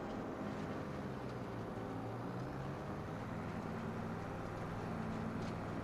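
A Kubota tractor driving in Farming Simulator 25, a steady low engine drone rumbling continuously with a faint rushing, wind-like layer above it, even in loudness throughout.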